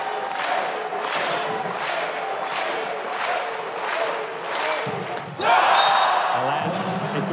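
A volleyball crowd in a college arena at a Hawaii versus Stanford men's match roars and cheers as server Keone Thim checks in. The rhythmic chanting surges, then swells louder near the end, while a commentator talks over it.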